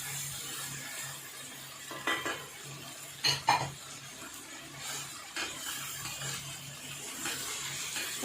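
Boiled fresh peas, half a cup, go into a pan for desi-style chicken vegetable macaroni and get stirred, giving soft scraping, spoon clinks and a low sizzle with a few louder knocks, no talking.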